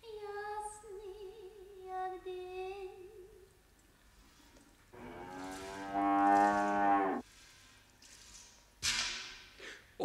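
A cow moos in a shed while being milked, a long drawn-out low bellow in the middle following other tonal sounds, set within a radio play scene.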